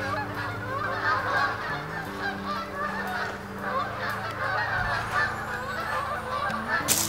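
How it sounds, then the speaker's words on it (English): A flock of geese honks continuously at a country house, many overlapping nasal calls close and far, steady and dense throughout with no talk. "And a bunch of geese."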